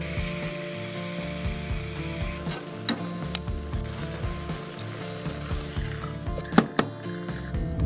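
Beef steak pieces of about 200 grams, seasoned with spiced salt, sizzle and fry in a pan outdoors, a steady crackle with occasional sharp clicks and scrapes, no talking.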